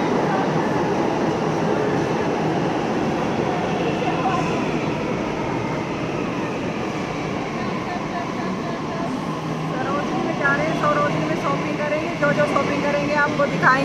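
A Delhi Metro train rumbles steadily throughout on the way to Sarojini Nagar, a dense continuous roar of the carriage in motion, with faint voices mixed in the background.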